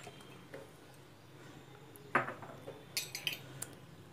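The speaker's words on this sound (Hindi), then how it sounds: "चलिए अब हम इन सब सामान को किसी बड़े बर्तन में डालकर मिक्स कर लेते हैं" Potato pakora ingredients are mixed in a large bowl, with quiet rustling and a few spaced clinks and knocks of a utensil against the bowl, a louder clatter near the middle, and no talking.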